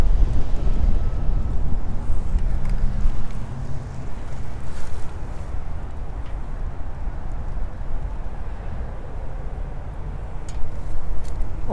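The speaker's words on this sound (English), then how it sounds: "we're staring into the wind, and dude, it is going straight." Strong gusting wind roars and buffets across the microphone during a fishing trip, a loud, steady rush that fills the whole stretch with no talking.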